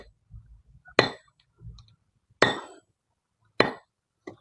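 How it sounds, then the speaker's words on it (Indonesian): A water-quenched hardened blade, 40 cm long, strikes welding wire in three sharp metallic clinks spaced about a second apart, each ringing briefly, with soft low knocks between the strikes. "Kita coba buat motongin kawat cor,"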